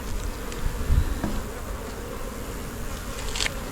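Honey bees buzz in a nearly full hive brood box, giving a dense, steady hum with a few closer individual bees passing by and no speech.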